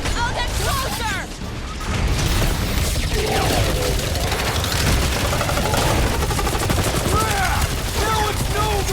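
Continuous dense gunfire and blaster shots in the video game Marvel's Guardians of the Galaxy during a rooftop firefight, loud and layered with crashes and booms, while voices shout over the battle.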